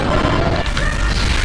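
An explosion in the video game Kirby's Return to Dreamland sounds as a loud, dense crashing boom that fills the clip and then gives way to a rumbling tail.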